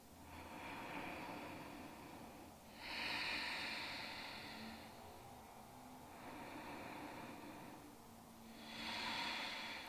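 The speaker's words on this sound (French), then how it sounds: "Encore 3 respirations ici." Slow, deep yoga breaths: soft airy inhales and exhales rise and fall in long, even swells, several cycles at close range with no talking.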